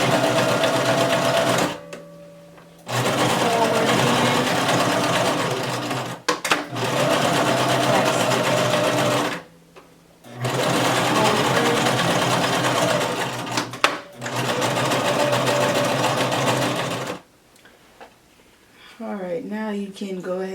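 Sewing machine back stitching a maxi skirt, its motor running in several long loud bursts separated by short pauses, ending with quieter handling sounds.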